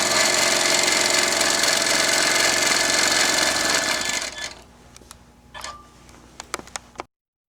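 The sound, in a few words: Tin Lizzie 18 sewing machine stitching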